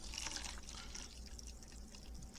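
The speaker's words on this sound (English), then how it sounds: "First you're going to want to pour your boiling water." Boiling water poured from a tea kettle into a bowl, making a continuous close hiss and splash of liquid that stays fairly steady and moderately loud throughout.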